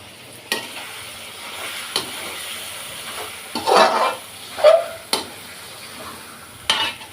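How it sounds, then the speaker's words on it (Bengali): Beef pieces being sautéed in oil for masala curry, a quiet background sizzle punctuated by occasional spatula knocks and scrapes against the pot, with a few louder stirring bursts. "অনেক ভালোভাবে কষাতে হবে এই মাংসটা"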